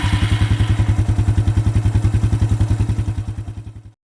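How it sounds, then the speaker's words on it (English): A quad bike engine idles with a loud, rapid, evenly pulsing thump that runs steadily and then slows and dies away at the end, heard alone. "Quad bike."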